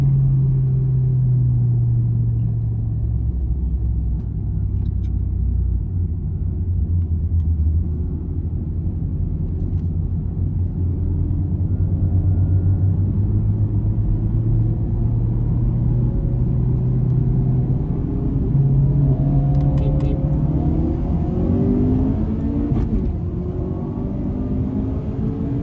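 A 2018 Honda Accord with a factory manual transmission and an FK8 Civic Type R accelerate hard side by side in a race, a loud continuous engine roar with rising revs and wind rush throughout.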